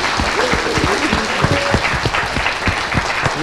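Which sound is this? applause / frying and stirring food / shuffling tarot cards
applause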